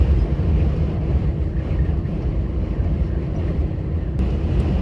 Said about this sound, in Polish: oto wiatr